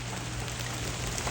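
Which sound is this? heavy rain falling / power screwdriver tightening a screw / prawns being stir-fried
heavy rain falling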